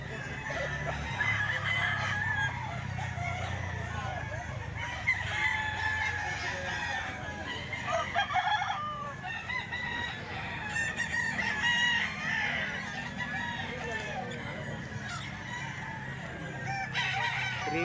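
A rooster crows repeatedly, loud and close, amid steady clucking and other chickens calling throughout.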